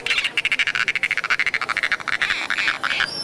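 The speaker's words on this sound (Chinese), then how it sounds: "刚才听到是青蛙在叫。" Rapid, rhythmic croaking of a frog, a fast train of evenly spaced pulses that runs through the whole stretch, fairly loud and close with no voices.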